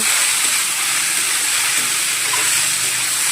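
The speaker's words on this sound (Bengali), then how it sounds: "এই যে চিড়াটা আমি ভাজা নিচ্ছি সামান্য পরিমাণ" Flattened rice frying in a pan with a pinch of turmeric, a loud, even, dense hiss running steadily throughout with no breaks and no talking.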